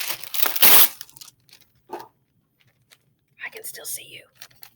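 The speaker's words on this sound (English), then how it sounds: "And then you're going to get that piece of wax paper" Wax paper being handled, with a loud crinkle and tear near the start, then softer rustles and crumpling in short bursts separated by quiet gaps.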